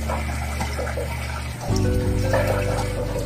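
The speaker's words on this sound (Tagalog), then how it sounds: "Papalitan na natin yung tubig nila ng bago." Fresh tap water splashes into a crayfish tank, the pour starting abruptly partway through and continuing as a steady, close gushing trickle after a quieter stretch.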